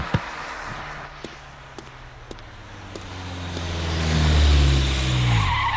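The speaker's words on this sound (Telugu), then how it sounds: "ఎవడు ఈ టైంలో నా ఇంటి ముందు కారు సౌండ్?" A car pulls up in front of a house with a rising engine roar and a long squeal of tires, growing louder as it arrives and stops. A few sharp clicks come earlier, before the skid.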